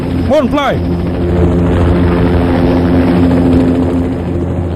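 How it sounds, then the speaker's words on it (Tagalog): A helicopter flies overhead with a continuous droning rotor and engine roar, loud and close, while voices call out over it. "Ipabos pa ang lupad sa helikopter!"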